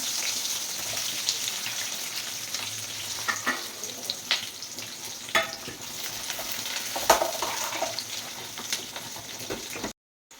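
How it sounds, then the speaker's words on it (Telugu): Onions, garlic and curry leaves fry in a hot pan for a masala vada pulusu, giving a steady crackling sizzle with scattered pops and stirring scrapes, close and continuous until the sound cuts off near the end. "కరివేపాకు, అందులోనే ఆనియన్స్ వేయండి."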